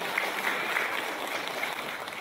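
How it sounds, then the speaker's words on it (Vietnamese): Steady applause from guests welcoming elders and families at a Buddhist wedding blessing ceremony, a dense, continuous patter of many hands clapping at moderate volume throughout. "Xin một tràng pháo tay để chào đón các cụ,"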